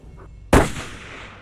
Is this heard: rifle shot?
yes